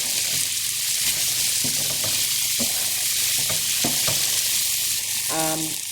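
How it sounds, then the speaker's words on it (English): Tinned sardines fry with tomatoes and spices in a loud, steady sizzle while a spoon repeatedly stirs and breaks up the fish, adding scattered scrapes and taps close by. "Use the back of your spoon just to gently break the large chunks of the sardines as well."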